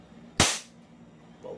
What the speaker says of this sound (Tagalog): Ready to fire. Single fire. First fire.